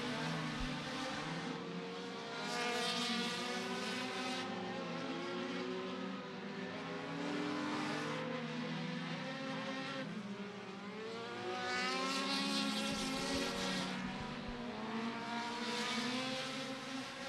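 Compact race car engines roar and rev continuously during hot laps at Beckley Motor Speedway, rising and falling in pitch as cars circle, loud and sustained without speech.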